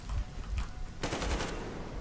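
Rapid automatic gunfire in the video game Metro Exodus, a burst of quick crackling shots over a low rumbling game background, lasting about half a second, with no voices.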